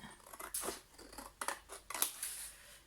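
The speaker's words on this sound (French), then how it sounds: "Je vais prendre les ciseaux et couper" Scissors snipping the corners of paper for a handmade autumn album, a handful of quiet crisp cuts and rustles spaced irregularly, close and faint.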